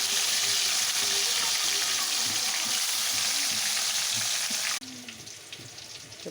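Food frying crisply in hot oil gives a loud, continuous crackling sizzle that drops abruptly to a quieter fizz near the end, with no voices.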